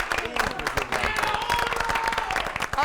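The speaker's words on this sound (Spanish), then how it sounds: "Merece un aplauso la picada." A studio audience claps in a television show setting, with distinct, fairly close clapping mixed with crowd voices and some cheering, busy and uneven over a few seconds.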